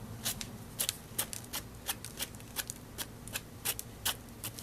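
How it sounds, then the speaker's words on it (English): Dry paper towel wiping wet paint off a salty background surface, a series of short, dry scuffing swipes at an irregular rhythm, close up and fairly quiet, with no talking. "paper towel, and let's wipe some of this off."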